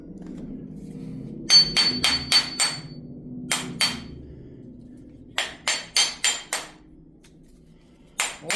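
Sharp metallic hammer blows strike a scrap transformer's varnished laminated core, coming in quick bursts of four to five hits separated by pauses, each ringing clang close and loud over a low background hum.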